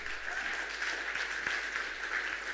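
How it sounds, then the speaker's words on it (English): An audience at a science buskers festival applauding, with steady, dense clapping throughout at moderate distance and no speech. "A round of applause for the videos"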